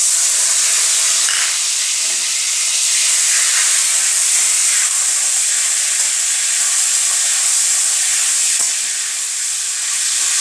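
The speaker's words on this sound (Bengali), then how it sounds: "চিংড়ি মাছটা আগে ভেজে নেব" Prawns fry in hot oil for a Bengali lau chingri dish, a loud, constant hissing sizzle that holds steady for the whole stretch with no talking.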